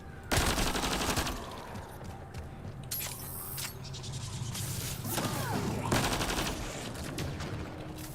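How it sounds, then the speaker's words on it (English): Submachine gun fire in the video game Mass Effect Andromeda: several rapid automatic bursts, loud and close, separated by gaps that hold softer game effects and rumble. "Low on ammo for the submachine gun, probably because I use it like a gosh darn fire hose."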